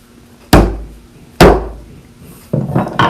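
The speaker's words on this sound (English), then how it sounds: "now I'm pounding on the hold downs" A wooden mallet pounds woodworking hold-downs while setting up a mortise and tenon job: three sharp, loud, close knocks, spaced roughly a second apart, each with a short ringing decay, and no talking.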